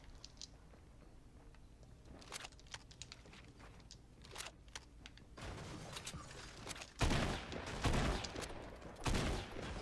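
Gunfire from the Fortnite battle royale game played on Nintendo Switch, with scattered single shots at first, then denser loud bursts of rapid fire toward the end.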